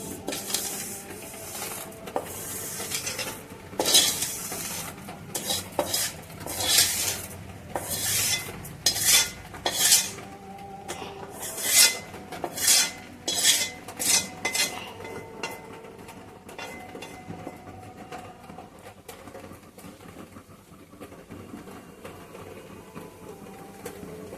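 Rice stirred into simmering milk in a pot for palm-jaggery payesh, with a spoon scraping and clinking against the metal in irregular close bursts that thin out into quieter, sparser taps; no talking.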